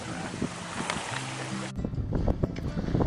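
A sailboat slaloms between scattered buoys, with steady wind and water rush that suddenly drops to a calmer wash of lapping water and soft knocks.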